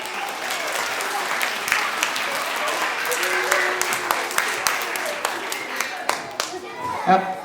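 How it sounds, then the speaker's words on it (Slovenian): A family theatre audience applauds the actors steadily with dense, continuous clapping, while a few voices call out faintly beneath it. "En močen aplavz za naše igralce."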